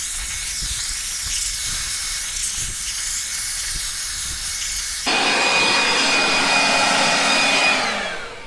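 A strong air blower hisses and roars steadily while dust is blown out of the interior of a BMW E60 car, loud and close, its tone shifting sharply to a harsher rush partway through, no talking.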